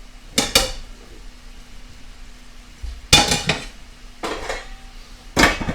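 Half-inch chunks of a rice mixture are dropped into a pan, giving four separate sharp clattering impacts spaced apart, each followed by a short rattle against quiet background.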